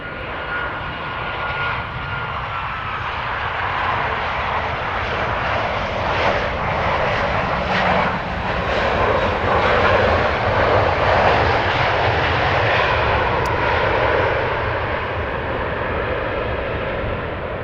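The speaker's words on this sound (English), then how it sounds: "I'm hearing the spooling up of an engine that is starting." A steady, loud jet engine roar drones continuously as it spools up at startup, swelling slightly in the middle as it builds, with no voices, at Amsterdam Schiphol Airport.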